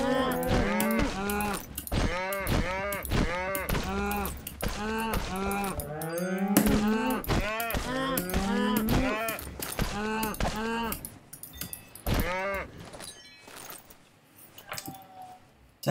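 Cows moo repeatedly in a farming video game, a long series of loud, close, drawn-out lowing calls overlapping one another, with a few sparse clicks near the end.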